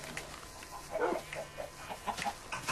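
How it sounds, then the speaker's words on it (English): Minecraft pigs in a farm pen grunting and oinking in a string of short snorts, several animals close together, steady and moderately loud. "Pigs."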